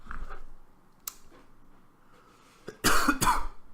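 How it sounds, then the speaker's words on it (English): A man clears his throat twice in sharp, loud bursts near the end, after a quiet stretch with faint background hum and a small click. "I've got to stop and clear my throat ever so often"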